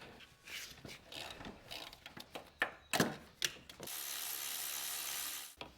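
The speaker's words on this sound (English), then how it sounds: "I'm gonna use a ratcheting wrench" A ratcheting wrench turns the tensioner bolt on a Toyota Celica, giving quick bursts of close, sharp clicking, then a steady hiss of noise near the end.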